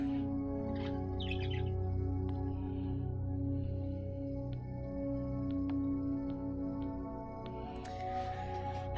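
A pet bird tweets indoors, giving repeated short high chirps scattered over a steady background hum, fairly close and moderately loud, with a brief burst of calls near the end.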